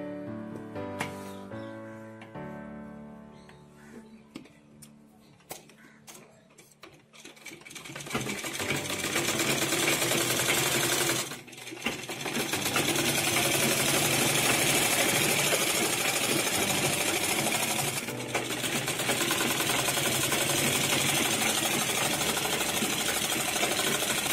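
Close up, a sewing machine stitches a step skirt, starting with a few slow hand-turned clicks and then settling into a loud, continuous fast whirring run that dips briefly once and carries on to the end.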